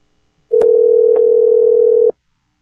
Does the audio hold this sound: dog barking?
no